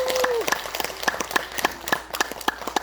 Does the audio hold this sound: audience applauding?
yes